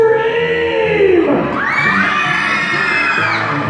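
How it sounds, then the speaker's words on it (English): A crowd of children screams together during a party game on a DJ dance floor, a loud burst of high overlapping shrieks and cheers rising sharply and holding, with a band playing in the background. "When I say Mountain Dew, you run to the middle and scream!"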